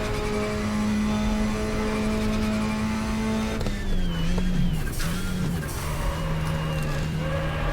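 A WTCC racing car engine in GTR2 at Silverstone drones as a steady high engine tone, then drops and wavers through downshifts and revs. A voice talks over the engine noise throughout.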